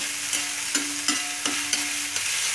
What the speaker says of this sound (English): We'll fry the onion for